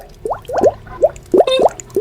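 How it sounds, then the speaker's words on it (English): A quick series of about eight small bubbles popping one after another, each a short wet, rising plop, fairly close and clear with no talking over them. "Let's pop the bubbles."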